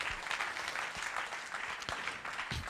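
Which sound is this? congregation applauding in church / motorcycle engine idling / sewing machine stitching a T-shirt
congregation applauding in church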